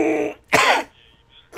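A person coughs or clears their throat in one short, harsh burst, close and loud, with a brief tail of a second one at the end.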